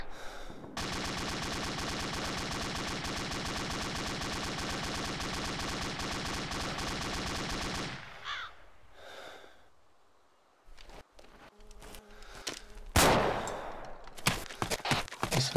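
A sustained buzzing roar of rapid gunfire from ArmA 2 ACE fills the first half, then breaks into scattered loud single shots and sharp cracks.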